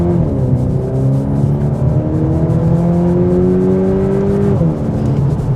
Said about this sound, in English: We were in first gear then, accelerated off away from that junction